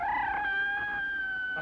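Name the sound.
cat sound effect from phonograph record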